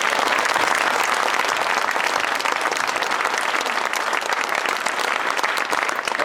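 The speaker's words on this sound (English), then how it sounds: "So if you would please join me in giving them a warm round of applause for all their support." A crowd at a military change of responsibility ceremony gives a warm round of applause, dense continuous clapping holding at an even level throughout.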